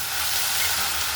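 Tomatoes and onions sauté with salt in a pan, giving a loud, steady sizzle and hiss that runs unbroken from start to finish, with no voice over it.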